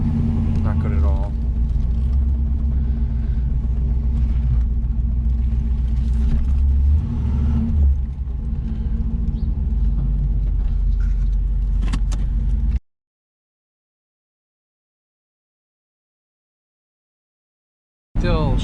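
A 1984 Camaro Z28 running with a high idle and late shifts, its low engine rumble steady and close under continuous talking, then cutting out abruptly near the end.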